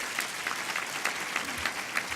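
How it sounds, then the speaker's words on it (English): An audience at a small business awards ceremony applauds steadily, a dense wash of clapping hands that holds at an even level throughout. "So let's give them a round of applause."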